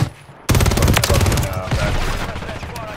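Sniper fire in the Call of Duty Rebirth Island battle royale, a loud sudden volley of rapid repeated shots bursting in after a brief quieter moment, then trailing off with lingering echoes.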